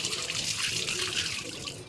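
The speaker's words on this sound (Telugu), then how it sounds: "ఇలా ఒక్కొక్కటి క్లీన్గా కడుక్కోవాలి." Tomatoes, carrots, beetroot and cucumber are rinsed under running water, a short, steady close splashing stream with no voices.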